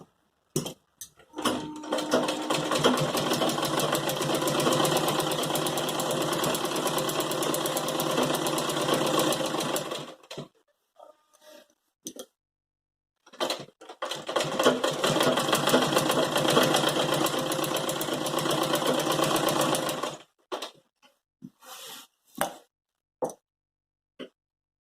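Sewing machine stitching the hem of a Patiala salwar, running in two long steady bursts of about eight seconds each, close and loud, with short clicks and handling noises in the pauses between runs.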